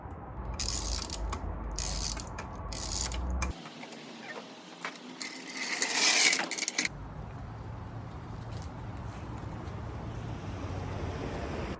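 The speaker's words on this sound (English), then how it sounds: "so now it's time to get the plugs back in" A ratchet clicks as spark plugs are tightened into a BMW E46 engine, with bursts of rapid pawl clicking, a pause, then more ratcheting and clinking of tools over a low garage hum.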